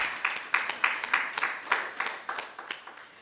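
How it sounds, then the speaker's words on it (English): Light applause from a small group at a health research conference, sparse claps in an uneven rhythm, close and fairly quiet for a few seconds. "let us give a round of applause for that"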